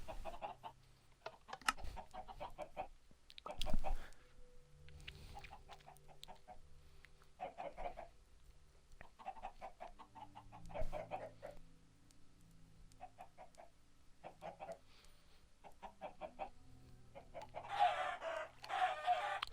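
Minecraft chickens cluck in repeated short bursts throughout, with a busier flurry of clucking near the end, set against quiet game ambience and no talk.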